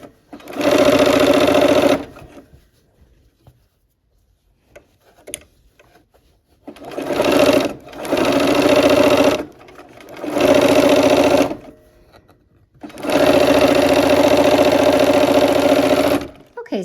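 A sewing machine stitches quilt blocks with a quarter-inch seam, running in loud, steady bursts of whirring stitches separated by pauses, with a voice talking faintly in the gaps.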